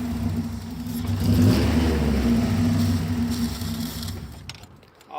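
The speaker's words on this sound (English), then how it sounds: "I got a leak from the exhaust manifold" A car engine with a leaking exhaust manifold and head gasket revs up close, a loud rising and falling drone that swells, holds, then drops off near the end with no talk over it.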